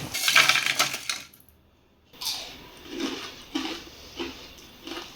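Crispy fried onion bonda being bitten and chewed up close: a burst of sharp crackly crunches, a short pause, then several softer, spaced crunching chews.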